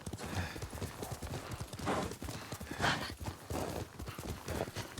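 Hooves of a horse clip-clop steadily in Ghost of Tsushima, a loud, close trotting rhythm of repeated hoof strikes with no talk over it.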